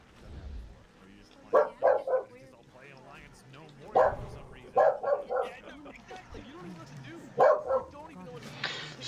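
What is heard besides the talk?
dog barking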